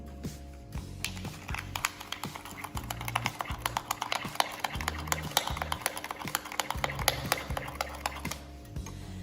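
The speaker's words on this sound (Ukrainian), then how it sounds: "Ретельно все розмішуємо." A spoon stirs egg, sugar and vanilla sugar in a bowl for syrnyky, making quick, steady clinks and scrapes that repeat in an irregular rhythm close by.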